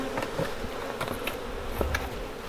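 A dense swarm of honey bees buzzes close around a hive as about forty thousand bees are moved into a new home, a continuous droning hum with individual bees flitting past the microphone.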